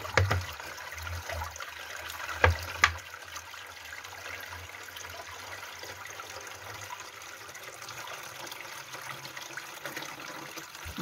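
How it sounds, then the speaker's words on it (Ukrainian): Water runs steadily from a tap at a rural home, a constant trickling wash with a few sharper splashes early on, close and moderately loud, with no talking. "Що класно тече вода."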